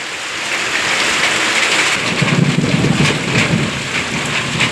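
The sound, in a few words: rain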